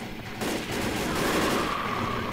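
Rapid gunfire from the video game Left 4 Dead 2, a dense, steady stream of shots that builds after a brief quieter opening and stays loud and continuous throughout.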